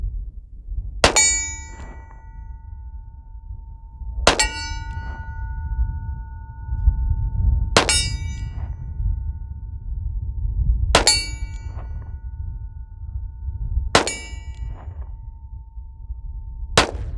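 Taurus Model 65 revolver fired at steel targets, .357 Magnum/.38 Special: six sharp shots spaced about three seconds apart, each followed by a bright, sustained metallic ring over low outdoor rumble.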